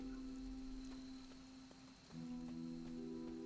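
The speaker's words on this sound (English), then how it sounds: "We got some rain today." Steady rain falling in the Marvel Midnight Suns video game, a soft continuous patter with faint tonal game music underneath, holding at an even level throughout.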